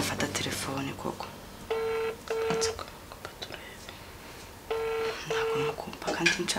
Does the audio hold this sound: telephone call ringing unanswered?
yes